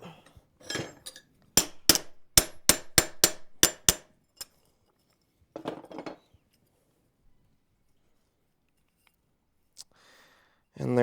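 Sharp metallic hammer-like taps, about nine quick evenly spaced strikes close by, while fitting a cabinet door bolt, followed by a few softer knocks and handling noises with brief talk.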